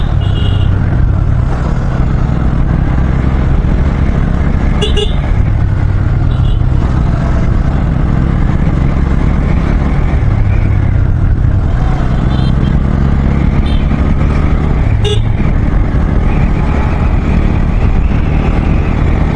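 A motorcycle ridden roughly along a road, its engine droning loud and close without a break, with wind rush and a few sharp rattles or clicks riding on top.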